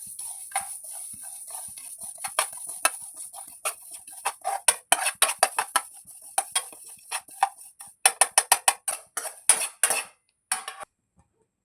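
Dry ingredients being roasted in a pan on a stove, with a steady run of light scraping and ticking clicks from stirring against the pan, growing denser and louder toward the end before stopping.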